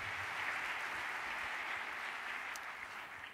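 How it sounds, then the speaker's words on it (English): An audience at a One Young World talk on mobile technology against malaria gives a round of applause, heard as a soft, distant, steady hiss of many hands clapping at once and tapering slightly toward the end. "Give them a round of applause."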